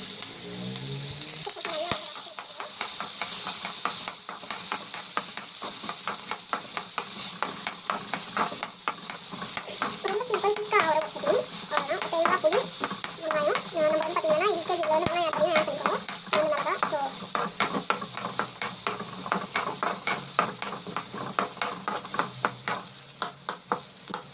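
Coconut and dried red chillies fry in hot oil, a steady close sizzle broken by repeated scraping stirs throughout, with no talking.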